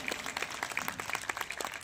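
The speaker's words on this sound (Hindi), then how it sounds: "एक बार जोरदार ताली बजा दीजिए।" Crowd at a local political gathering for a BJP ward candidate in Model Town claps enthusiastically, a quick busy patter of many hands heard faintly, with a trace of voice underneath.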